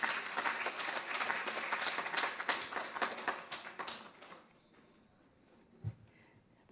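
An audience at an International Women's Day session applauds, a dense round of clapping that carries for about four seconds and then fades into near silence, followed by a couple of faint thumps.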